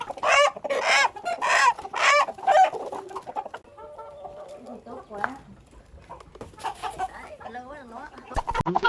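Farm chickens clucking and squawking as they are loaded into cages on a busy morning, loud agitated calls up close at first, then softer scattered clucks.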